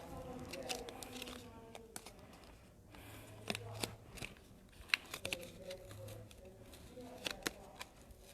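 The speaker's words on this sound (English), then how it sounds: "when you're cutting these kind of curved lines, instead of trying to turn your scissors, it's a little easier if you just turn the plate as you go" Scissors snipping along curved lines in a paper plate, the plate turned while cutting; a run of short, close crisp snips and crunches, uneven in rhythm, with small rustles of paper between cuts.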